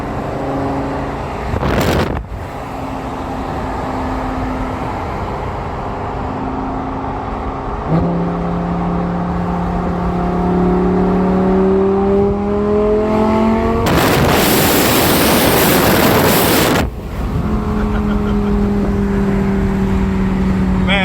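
A Lamborghini Gallardo LP-560 engine pulling through gears while driving, a steady near drone rising in pitch, then a loud full-throttle roar that sweeps up before dropping back to a cruise hum.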